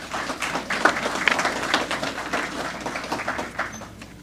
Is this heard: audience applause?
yes